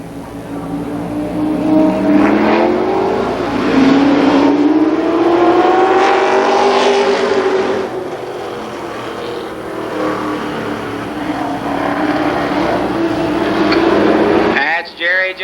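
Limited Sportsman race cars roaring around Columbus Motor Speedway, a loud, sustained engine drone that swells and fades as the pack circles, with an announcer talking over the noise throughout.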